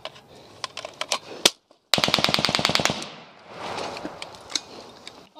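Gunfire crackles during a military ambush involving US troops, with scattered close shots followed by a rapid automatic burst of about a dozen sharp reports, then further irregular shots.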